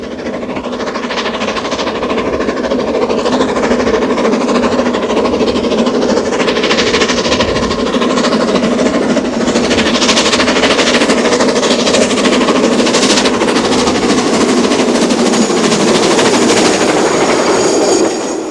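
BR 9F steam locomotive 92220, built at Swindon in 1960, hauls a train north on the Settle-Carlisle line, with a sustained loud rumble and rhythmic wheel clatter on the rails throughout.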